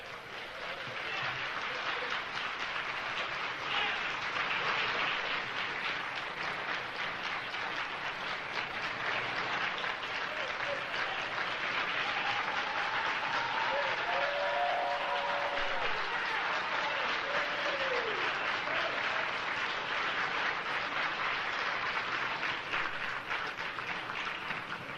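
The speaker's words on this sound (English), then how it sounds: "I want everybody to give her a round of applause." A long, sustained round of applause from a lecture audience, dense, even clapping that fills the whole stretch, with a few faint voices rising briefly in the middle.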